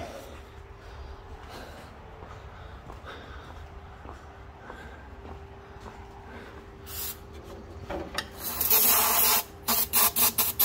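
Starting fluid sprayed into the two-barrel carburetor of a John Deere X324 lawn tractor, heard as several short, loud hissing bursts toward the end after a stretch of low background noise.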